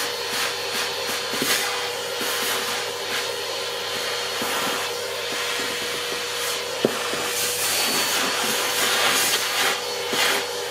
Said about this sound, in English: Quick hoover up with the faithful Henry.